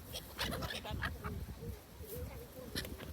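Honking bird calls, like geese or ducks, repeat amid people chatting close by in a noisy outdoor setting.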